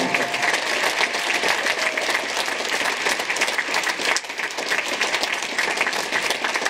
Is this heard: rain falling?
no